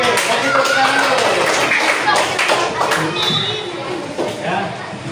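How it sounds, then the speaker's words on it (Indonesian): A classroom of students clapping hands during a religious education teaching session, a burst of loud clapping that thins out, with chatter and voices mixed through it. "Oke, kasih tepuk tangan dulu."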